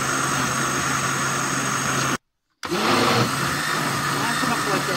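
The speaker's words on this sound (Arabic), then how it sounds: "انا غادي ندير طحن وتشوف القوام ديالو كيفاش جا" A kitchen blender whirs loudly as it purees banana with Danone yogurt into a smoothie, a steady roar that stops briefly and then starts again.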